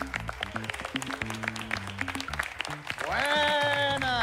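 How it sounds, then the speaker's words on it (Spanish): A studio audience applauds the judges at the grand final of MasterChef, a busy clatter of claps mixed with a music bed that swells into sustained tones midway through. "Un aplauso, por favor."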